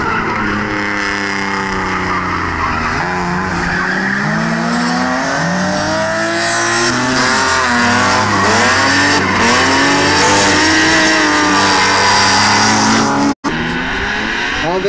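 Drift cars on a warm-up run at a drift show in Timpaki, Crete, engines roaring and revving loudly with long tire squeals and skids, pitch sweeping up and down continuously, a commentator talking over them.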